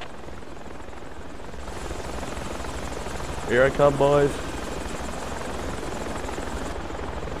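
A Project Reality helicopter drones steadily with a loud, continuous rotor buzz all the way through, and someone speaks briefly over it partway in.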